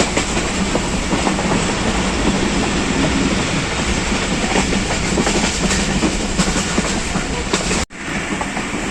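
Kohat Express passenger train rolling along the rails toward Rawalpindi in Pakistan, a steady loud rumble with rhythmic wheel clatter throughout, briefly cut by a sharp dip near the end before the running noise resumes.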